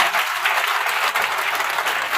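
A church congregation at a French-language service bursts into loud, continuous clapping and cheering, a dense wash of applause with no pauses.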